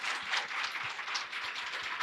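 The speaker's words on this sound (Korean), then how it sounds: "이 세 분께 다시 한번 큰 박수 부탁드립니다" Audience applause at a Korean public forum on preventing lonely deaths, given for three panel speakers after a talk session; dense, steady clapping from a seated crowd, fairly soft and distant, filling the whole stretch with no voices over it.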